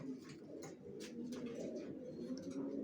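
Johnson line racer pigeons coo softly in a loft, a few quiet, throaty rolling calls overlapping one another, fairly faint and close.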